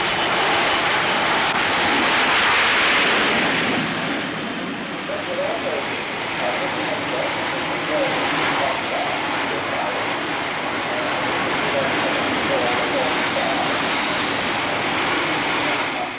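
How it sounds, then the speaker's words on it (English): Aircraft engines roar continuously around the 1966 British aircraft carrier HMS Eagle at sea, a steady, loud, broadband drone that swells and eases slightly without pause. "Whenever flying is on, helicopters hover nearby in case a pilot crashes in the sea."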